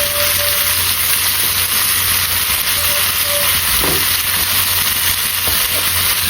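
Onions hit hot oil in a pan for a Bangladeshi bean and new potato fry, giving a loud, continuous close sizzle and hiss with steady frying crackle and no voices.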